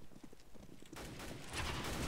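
Rifle fire from an M4A4 in the shooter game CS:GO during a deathmatch, a dense burst of gunshots building to a loud continuous volley after a short stretch of lighter clatter, with no talk.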